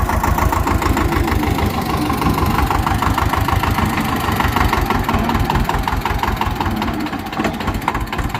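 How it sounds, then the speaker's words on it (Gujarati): A tractor engine chugs steadily while sowing cumin in a field, a loud, close diesel throb with a fast regular knock that runs unbroken from start to finish, with no voices over it. "આવી રીતનું કંઈક ટેક્ટર હાલે છે"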